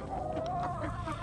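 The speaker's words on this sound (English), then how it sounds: "Mr. Brown, look at all them. Oh, they make a bunch of noise." Chickens clucking and squawking together at a low, steady level, a busy flock murmur with no voices.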